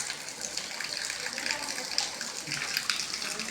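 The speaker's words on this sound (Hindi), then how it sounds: "ये सप्लाई पे इसका पानी का प्रेशर आ रहा है।" Water gushes steadily from a 48 volt DC pump running on mains supply rather than solar, a continuous rushing flow that stays moderately loud and close for the whole stretch with no talk over it.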